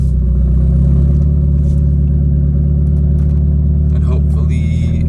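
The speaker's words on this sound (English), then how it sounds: "let's start my car" A Mazda MX-5 Miata's engine runs loud and steady at close range, a low idle rumble with a slight rise in revs, while faint voices sound underneath.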